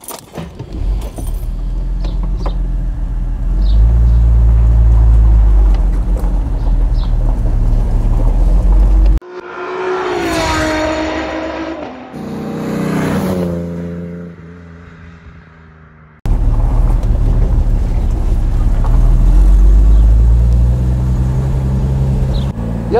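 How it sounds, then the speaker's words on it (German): A 1965 Mercedes 300 SE Cabriolet drives in fine weather with a loud, deep engine drone. A stretch in the middle carries a different, higher tonal sound before the steady engine note returns. "heute sind wir in einem hochherrschaftlichen Mercedes 300 SE Cabriolet unterwegs"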